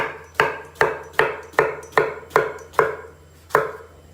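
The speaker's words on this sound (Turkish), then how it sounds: "Hemen patlıcanlarımızı doğrayacağız." Steady knife chops through eggplant on a cutting board, eight sharp cuts at an even pace, close and clear with no talking.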